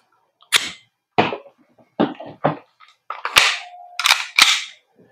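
A WE Hi-Capa 5.1 Type K gas blowback airsoft pistol fires about eight sharp, close, loud cracks in irregular succession, each with a quick slide snap, over an otherwise silent background.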